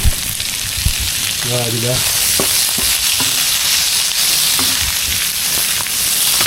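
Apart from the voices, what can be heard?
sautéing ingredients in a pan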